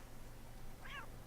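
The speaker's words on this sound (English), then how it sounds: "Look at that kitty." A cat in the video game Assassin's Creed III gives a single short meow, faint and brief against a low steady background hum, with no speech.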